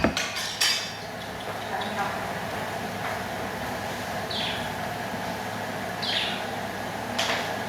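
Dishes and cutlery clink softly during a meal of pakbet with coconut milk and bagoong, with a few light metallic taps spread over a steady room hum and faint background noise.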